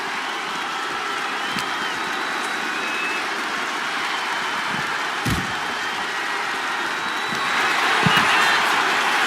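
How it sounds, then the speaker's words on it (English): A video game wrestling arena crowd roars in a dense, steady wash of cheering that swells a little toward the end, with a few sharp thuds over the top. "when you can't hear yourself think because the crowd's so loud"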